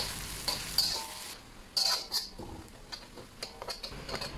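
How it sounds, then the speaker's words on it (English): Thinly sliced onions fry in hot oil toward golden brown, a faint, low sizzle punctuated by a few quick spatula clicks and scrapes, with no voices over it. "And we'll add the onions which we sliced thinly. We are going to fry this until it's golden brown"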